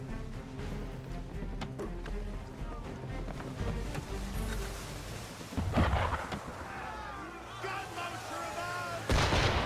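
Cannon fire aimed at a ship in Assassin's Creed 3 booms in heavy, rumbling blasts, with a couple of louder reports standing out over a constant background of sea and wind.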